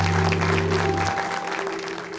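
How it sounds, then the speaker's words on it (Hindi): Studio audience at a New Year special television show applauding guests, a dense, loud wash of clapping that holds steady and tapers slightly, with a low hum beneath it. "मोइन बेग और मलका आपा की भी तालियां"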